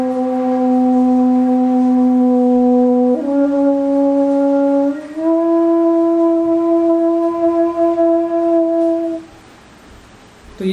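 A flute played at an expert lecture in a Gujarat engineering college gives long, low, sustained breathy notes that step upward in pitch twice over about nine seconds. The notes are loud and close, then fade into a softer breath before a new attack.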